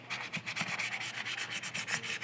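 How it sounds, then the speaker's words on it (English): Light sanding on small parts of a quarter-scale Aquaman figure, a steady close rubbing rasp with quick back-and-forth strokes, no talking. "Again, just real light sanding."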